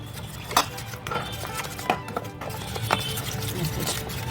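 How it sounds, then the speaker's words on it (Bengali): Banana flower cutlet batter being whisked with water in a bowl, heard as irregular clinks and taps of utensil on vessel over a steady background hum. "এবার আমি এটাকে ভালোভাবে জল দিয়ে ফেটিয়ে এটা ব্যাটার বানিয়ে নিচ্ছি।"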